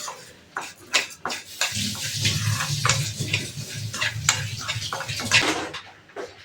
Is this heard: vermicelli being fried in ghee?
yes